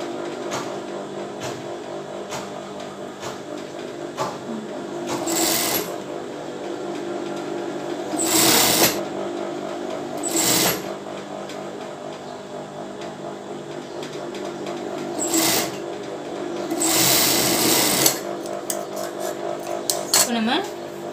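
A sewing machine runs in several short bursts while stitching a rolled hem on a bra seam, with a steady background hum and a voice talking through it.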